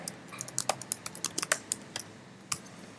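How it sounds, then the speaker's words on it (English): Fingers type on a computer keyboard during a programming lecture, a quick irregular run of crisp, close keystrokes followed by a pause and one final tap, with no one speaking. "You type Adam, a.example.com, right?"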